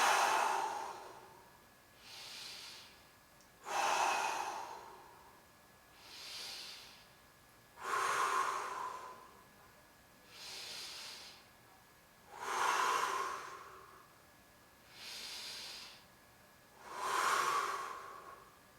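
Someone takes five big, slow breaths while holding a side plank, alternating loud, close inhales and exhales about every two and a half seconds, with strong airy rushes and no talking.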